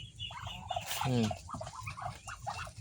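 Ducks and geese are fed grain feed on a farm, letting out a few close, nasal honking calls with one louder burst in the middle, and soft scuffling sounds underneath.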